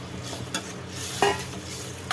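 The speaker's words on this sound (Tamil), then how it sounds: "3 உருளைக்கிழங்க போட்டுக்கிறோன்னா ஒரு கிளறிட்டு நம்ம இது பண்ணி வச்சுருக்க காலிஃப்ளவரையும் போட்டுடலாம்" A spoon stirs potatoes and cauliflower through masala frying in a pan, with a steady sizzle underneath and a few soft scraping knocks.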